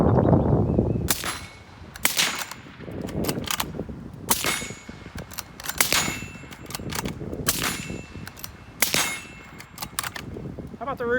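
Rifle magazines are inserted into the magwell of a Ruger American rifle, giving a series of sharp metallic clangs and clicks at irregular intervals, close and loud with quiet gaps between them.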